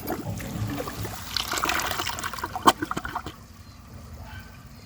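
An American Standard Homestead VorMax toilet flushing, a close watery rush and trickle that swells, peaks with a short gurgling siphon burst, then fades into quiet dribbling.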